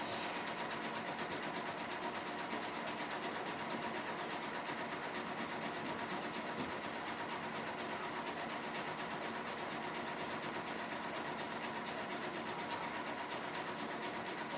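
A sewing machine hums steadily and quietly while stitching a round basket base, a continuous even drone with no pauses throughout.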